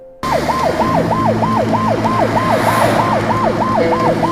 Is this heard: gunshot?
no